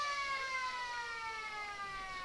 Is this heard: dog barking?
no